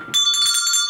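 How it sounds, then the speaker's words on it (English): A hand bell rung once indoors, a bright sustained metallic ring with a quick onset that keeps sounding loud and alone for the rest of the moment. "I'm going to ring the bell for each one"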